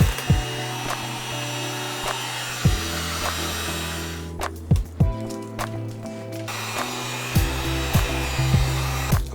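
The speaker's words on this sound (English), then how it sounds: "I'm using a heat gun to remove the decal." Heat gun blowing hot air to remove a decal from a Yamaha R3 motorcycle, a steady close whooshing hum running throughout, with occasional sharp clicks and taps as the sticker is worked.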